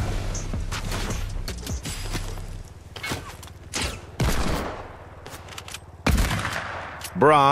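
Gunfire from a Fortnite Chapter 1 match, with several sharp bursts of shots scattered among quieter gaps, a louder burst near the end, and a warbling tone at the very end.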